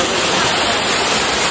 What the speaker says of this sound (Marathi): आता तुम्हाला धबधबा दाखवतो